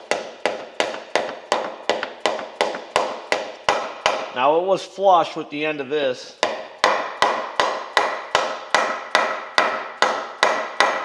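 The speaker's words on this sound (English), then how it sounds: "tap around the edge of it, and evenly knock it back in there" A hammer taps an oil seal flush into place during an oil leak repair, landing a steady run of sharp, close knocks. The taps pause briefly while someone speaks, then resume at an even rhythm.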